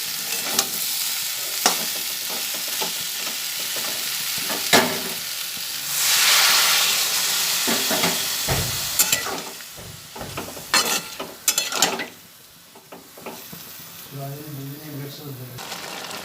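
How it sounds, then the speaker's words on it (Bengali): Jackfruit curry with Gobindobhog rice cooking in a pan, a spoon scraping and stirring in bursts over a soft sizzle that swells at one point, with a voice talking in between. "আবার ভালোভাবে নাড়াতে করে বসিয়ে নিচ্ছি"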